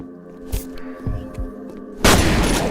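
A proximity grenade goes off in a video game: soft thuds first, then one loud broadband blast near the end that keeps roaring.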